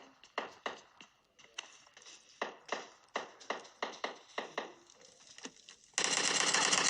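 Gunfire in the PUBG video game cracks out as a rapid series of sharp single shots, about a dozen in a loose rhythm, before a sudden burst of loud, harsh noise takes over at the end.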